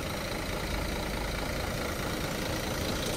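A large intercity coach's diesel engine runs steadily and loudly nearby, a constant deep rumble with no voices.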